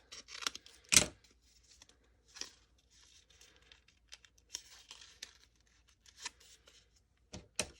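Scissors cut through tea bag material in a handful of separate sharp snips with crinkly paper rustling between them, close and fairly quiet.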